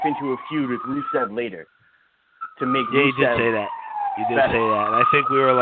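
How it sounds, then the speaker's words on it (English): An ambulance siren wails outside, its rising and falling tone running under two people talking casually through most of the clip. "That's the ambulance."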